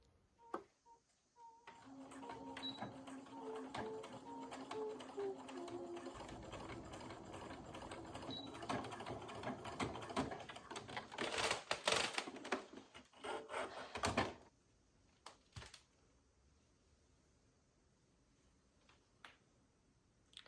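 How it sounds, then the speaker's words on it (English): A sewing machine runs a straight stitch around the collar of a jumpsuit made from a thrifted dress, a steady close mechanical whir with light ticking for about fourteen seconds, then stopping into near silence with a few faint clicks. "we're just gonna do a straight stitch all the way around this collar"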